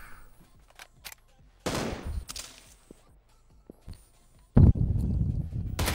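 Gunfire in the battle-royale game PUBG: scattered short shots early on, then a loud close burst near the middle and a heavy sustained volley at the end, with faint footsteps between.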